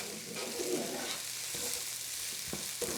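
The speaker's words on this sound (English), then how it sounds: "we only want to cook the garlic for probably 45 seconds. Just to cook it. Stir that around." Garlic frying in a pan while being stirred for an Asian chicken dish, a dense close sizzle broken by scraping stir strokes and a few sharp clicks, with no voices.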